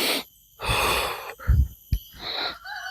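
A deep breath drawn in during a gym breathing demonstration: a loud, close inhale, a brief pause, a sharp huff and a second breathy pull, all in about three seconds.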